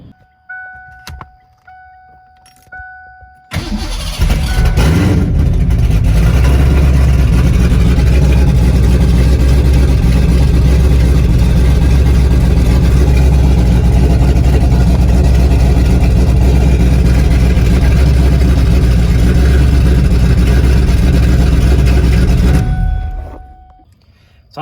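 A 331ci Ford Foxbody V8 on regular gas starts and idles loudly and steadily for about twenty seconds with a deep, constant rumble before shutting off.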